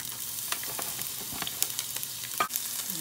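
Oil sizzling and crackling in a pan as aromatics are sautéed for Japanese-style chicken and egg rice bowl, with irregular spatters and stirring clinks over a steady hiss.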